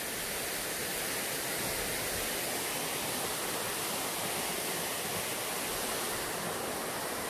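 A Korean mountain waterfall roars in a dense, steady rush of falling water, loud and close, with no pauses or voices.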